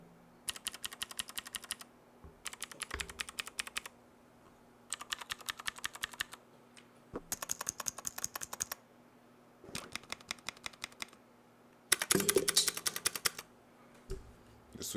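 Bursts of typing on an Epomaker TH80 mechanical keyboard, rapid close clicks and clacks in about eight short runs separated by brief pauses, with no voices.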